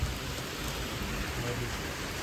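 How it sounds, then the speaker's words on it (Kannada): Steady rain falls outdoors in Mysore during the Ganesha festival, a continuous even hiss of moderate loudness with no distinct drops or thunder standing out. "ನಾವಿಬ್ಬರೇ ಮಳೆ ನೋಡ್ಕೊಂಡು ನಿಂತಿದ್ದೀವಿ."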